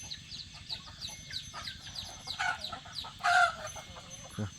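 Chickens clucking in a busy flock: many short, overlapping calls near and far, with a few louder squawks standing out.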